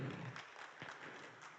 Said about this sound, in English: Can we have a round of applause for everybody who was part of RAISE